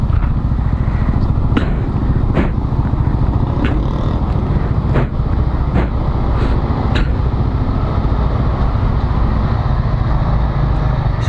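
A Yamaha Aerox or Mio Sporty scooter engine drones steadily at close range while riding on a road, a constant low rumble with occasional sharp clicks and rattles, no one speaking.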